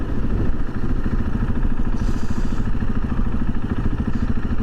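A group of motorcycles, one sport bike with slick tires and two adventure bikes, riding on a sand highway, gives a loud, continuous engine drone with steady mechanical clatter and no pauses.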